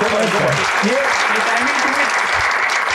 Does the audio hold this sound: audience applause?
yes